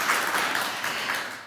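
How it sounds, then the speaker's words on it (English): An audience at a final event on refugee women's entrepreneurship gives warm applause, a dense, even wash of many hands clapping that tapers slightly at the end. "Warm applause."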